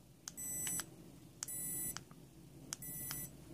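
Remote dog training collar sounding its warning tone on the low setting: three short, evenly spaced electronic beeps, each a steady high-pitched tone of under half a second, fairly quiet over faint background noise.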